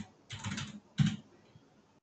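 A few quick keystrokes on a computer keyboard while a stock name is typed in, two short bursts of close, soft clicking with a pause between, no talking.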